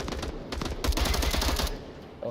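Rapid bursts of G3 battle rifle fire in the Onward VR shooter game, loud and close, with a dense rattle of shots over a couple of seconds and faint voices underneath.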